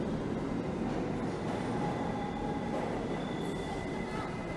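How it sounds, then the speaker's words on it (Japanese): An N line subway train on the New York City subway pulls into a Manhattan station, its steady rolling rumble filling the platform with a loud metallic wash and a faint squeal of wheels. "そして電車がやってきましたね。"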